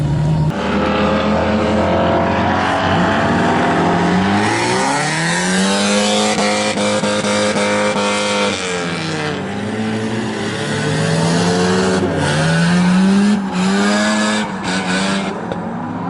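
A bone-stock rotary-engine car roars nearby at a drift event, revving up and down in smooth rising and falling sweeps as it drives past, loud and continuous.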